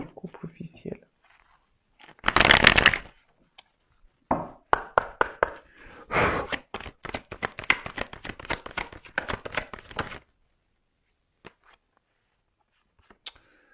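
Tarot cards being shuffled and handled during a card reading, a loud riffle burst followed by a run of soft, quick taps and slaps of cards, close by, with whispered talk at the start.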